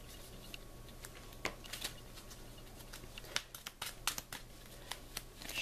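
A deck of Marvel Champions cards is shuffled close by, giving irregular bursts of quick riffling snaps and soft card patter over a quiet background.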